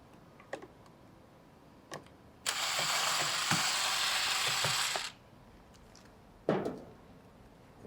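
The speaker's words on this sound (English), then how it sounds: "The first step is remove the belt cover by removing the 4 Phillips head" A driver unscrews the Phillips head screws on a carpet extractor's belt cover, with a few isolated clicks and a steady whirring buzz of about two and a half seconds from a powered screwdriver, followed by one more clack.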